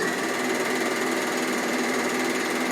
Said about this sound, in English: And that is how you roll edge on an overlocker.